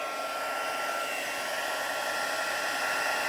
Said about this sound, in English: the heat tool to melt the embossing